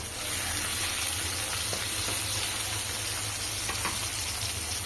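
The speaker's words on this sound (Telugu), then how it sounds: "టమాటా ఉల్లిగడ్డ పచ్చిమిర్చి అయితే బాగా అయితే మగ్గాయి" Pieces of tomato, onion and green chilli sizzle steadily in a pan for peanut chutney, a constant close frying hiss with occasional light pops and no talk.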